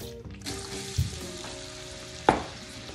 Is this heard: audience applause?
no